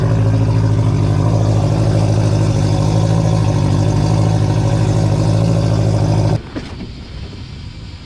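A car's costly $60k engine idles loud and steady at close range, then abruptly shuts off, leaving only faint clatter and room noise.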